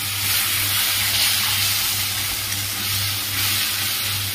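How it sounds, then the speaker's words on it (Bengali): Hot oil poured over a paste of poppy seed, mustard, melon seeds, green chilli, salt and turmeric, giving a steady, close, loud sizzling hiss that fizzes on without pause under a low hum. "এবার তেলটা গরম হয়ে গেছে, দিয়ে দিলাম।"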